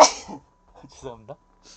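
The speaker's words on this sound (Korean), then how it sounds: "기침을 다 했다고 재채기를 다 했다고 생각했는데 마이크를 키자마자 또 재채기가 나왔네요" A sudden sneeze bursts out at the start, loud and close, in a computer room during a horror game session, followed by a short spoken apology.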